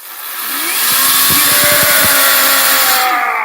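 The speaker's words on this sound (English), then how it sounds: "Chainsaw. It's going to be chainsaw." A loud chainsaw sound effect roars steadily for about three seconds, its engine pitch rising and holding with a rapid rattling chop in the middle, heard alone without talk.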